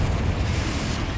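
A Confringo fire spell bursting in Hogwarts Legacy, a dense low rumbling explosion that fills the whole moment, loud and sustained with no talk over it.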